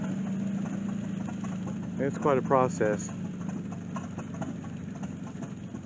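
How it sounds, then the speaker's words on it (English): A big steam engine drives a long belt that powers a threshing machine at an outdoor show, giving a steady low mechanical chugging drone throughout, with someone briefly talking over it midway. "That big steam engine, it powers the belt, and the belt runs this machine, threshing machine down here"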